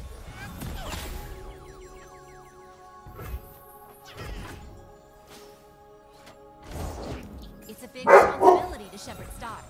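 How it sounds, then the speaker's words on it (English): A dog barks several times in short loud bursts, with sharp woofs spaced across the clip, mixed with a person talking indoors. "Don't bark like that."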